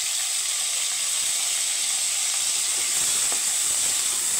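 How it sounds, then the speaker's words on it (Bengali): Homemade paneer made from chhana fries in hot oil, giving off a steady, loud, even sizzling hiss with no pauses. "পনিরগুলো ভেজে নেব"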